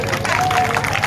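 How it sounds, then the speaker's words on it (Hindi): An audience at a Bhagavat Katha religious gathering claps for a boy in a short burst of dense, close applause, with voices in the crowd. "एक बार भाई इस बालक के लिए ताली बजा दो भाई"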